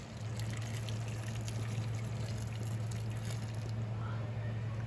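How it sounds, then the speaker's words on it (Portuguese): Hot water poured into a pot of oxtail cooking with tomato, ready for a pressure cooker; a steady, continuous splashing pour runs for the whole five seconds, fairly quiet and even, with no talk over it. "Agora, eu vou juntar um bocadinho d'água quente."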